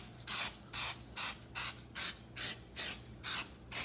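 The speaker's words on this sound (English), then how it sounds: "It is important that you grease your pan for this one." A springform pan gets greased with cooking spray in nine quick, evenly spaced hissing bursts, close and crisp, with no talk.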